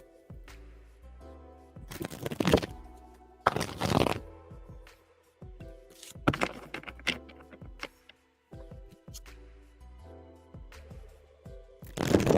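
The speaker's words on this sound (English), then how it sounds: "let's shuffle for your next question" Tarot cards being shuffled during a live reading, heard as several loud bursts of riffling and flapping card noise separated by quieter handling sounds, with no talk.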